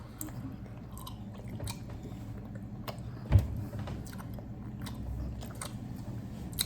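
Gum being chewed during a gum-chewing challenge, soft wet chewing and smacking close up, low and steady throughout, with one brief louder bump partway through.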